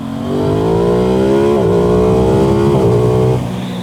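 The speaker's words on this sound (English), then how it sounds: "what it does have is a bit of induction sound to it" Aprilia Tuono 660 parallel-twin with a 270-degree crank revving hard from the rider's seat, its induction roar rising in pitch through the gears with two brief shift dips, loud and close, no talking.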